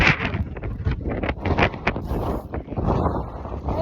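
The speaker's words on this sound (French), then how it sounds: "On n'entend toujours rien à cause du vent" Strong wind roars across the white sand dune in Morocco, loud and gusty on the microphone, a rough continuous buffeting that whips sand throughout.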